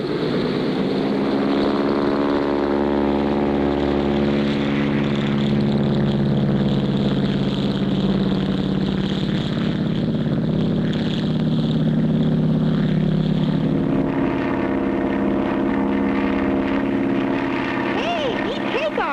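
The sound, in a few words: propeller bush plane taking off, cartoon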